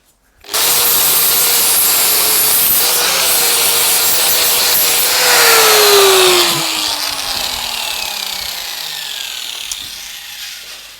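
Steady, harsh abrasive rubbing of sanding the back side of a Damascus steel knife blade, loud and close, continuing without pause with a brief surge in intensity midway.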